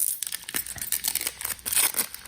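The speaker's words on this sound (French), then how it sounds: "Pour 2023, je me suis dit, on prend pas le ciseau pour ouvrir les boosters." Pokémon booster packs torn open by hand, the foil wrappers crinkling and ripping in close, loud bursts over a couple of seconds with no voices.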